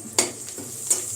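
Two chopped green chillies hit hot tempering oil for a chayote palya, giving a soft close sizzle punctuated by two sharp clinks of a spoon against the pan.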